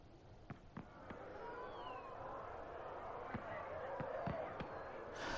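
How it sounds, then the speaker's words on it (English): Fireworks in Dragon Age: Inquisition, Trespasser DLC: a string of soft, distant pops and crackles at irregular intervals, with faint whistles trailing across an ambient background. "Oh, those are fireworks."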